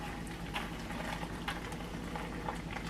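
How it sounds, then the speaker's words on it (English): Water bubbles at a steady rolling boil nearby, a continuous burbling hiss with soft pops, no one speaking. "I had the forethought of boiling some water"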